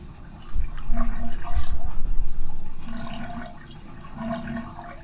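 Water draining from a clogged bathtub, a nearby gurgling rush that swells and fades in waves, no talking.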